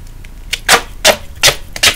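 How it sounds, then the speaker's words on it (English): Adhesive tape pulled from a roll in short, loud ripping bursts, about four close tearing strokes in quick succession while making a DIY makeup palette, with no speech. "So I'm going to take my tape again"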